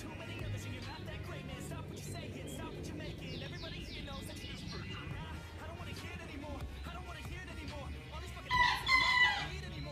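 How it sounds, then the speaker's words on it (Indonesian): Roosters crow in the distance, several drawn-out calls, with one louder, closer crow near the end over faint background chatter and traffic. "Para ayam juga ada geng"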